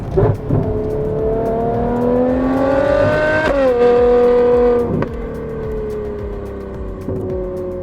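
A deafening Ferrari 812 Competizione V12 custom exhaust roars up through the revs, cracking sharply between gear changes, loud and close with a rough, aggressive tone.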